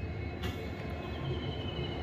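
A WDP4D diesel locomotive hauling a 12-coach express rolls into Bodinayakkanur railway station, a steady, close rumble of engine and wheels on rail with faint squeal, continuous throughout and with no talking.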